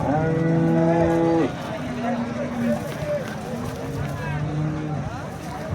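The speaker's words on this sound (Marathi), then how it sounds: "सांगोला बाजारमध्ये गाई आहे, पार्टी आहे गाई" Several loud, drawn-out cow moos close by, one after another, with farm background noise and some voices mixed in, at a cattle market in Sangola.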